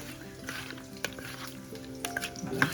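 Tarli fish, a small sardine, sizzles in a pan, giving a steady low frying hiss with occasional sharper crackles and a brief stir toward the end, close by and fairly quiet.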